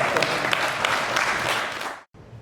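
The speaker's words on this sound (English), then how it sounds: "Can we give Virginia a round of applause?" An audience at a book fair session claps in a full, steady round of applause that cuts off abruptly near the end.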